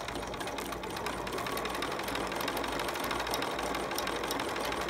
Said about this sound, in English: Now I'm going to hit zigzag, pivot my shirt, and zigzag down.